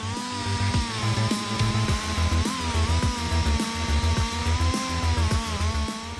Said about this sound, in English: using the 63 centimeters bar chainsaw to cut down the giant oak tree